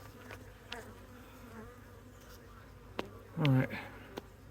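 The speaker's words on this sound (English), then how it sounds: "Got lots of bees in here." Bees swarm around 10-frame hive boxes during a nuc install, a low steady buzz running throughout with a few clicks and bumps, and a brief spoken word partway through.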